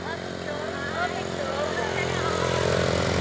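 A motorcycle carrying passengers runs with a steady buzzing engine drone that grows slightly louder, with people talking over it.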